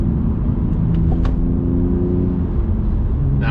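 A BMW M2 Competition drives along a narrow B road, its engine giving a deep, steady rumble with a low droning tone close to the listener, with no voices and only a few faint higher noises.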